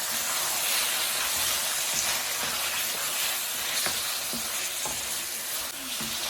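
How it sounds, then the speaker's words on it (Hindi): Minced meat keema with green bell pepper sizzles loudly in a pan as it is mixed, a dense steady frying hiss punctuated by repeated scraping and clacking of a spoon. "इसमें ये शिमला मिर्च ऐड कर देंगे और इसको अच्छी तरह मिक्स कर देंगे"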